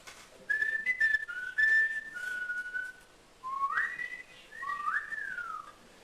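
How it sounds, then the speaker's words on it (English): A man whistles a lilting tune in a series of clear sliding notes, a few phrases separated by short pauses, fairly close and alone against quiet outdoor background. "So we had here a modern day warrior whistling away."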